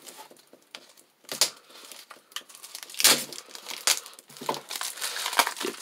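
Thick plastic wrapping on a card game box is torn and peeled open by hand in irregular bursts of loud, close crinkling and ripping, separated by short quiet gaps, with no talking.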